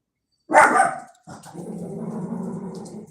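A dog gives a loud, close bark that trails into a rough, sustained growl.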